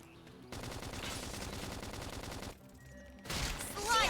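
Rapid gunfire in the video game Xenoblade Chronicles, bursts of fast automatic shots over battle music, cutting out briefly before more loud combat effects.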